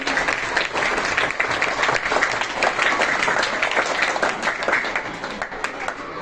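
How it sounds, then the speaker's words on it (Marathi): Sustained applause from a crowd at a school election event, dense clapping at a steady loudness that tapers slightly toward the end. "टाळ्या वाजून अभिनंदन करायचं आहे"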